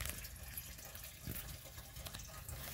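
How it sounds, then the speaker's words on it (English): Rainwater runs down into a sump pump pit in a geothermal passive-solar greenhouse, a steady faint trickling and splashing wash with no pauses and no voices. "So it's draining into there into a sub pump."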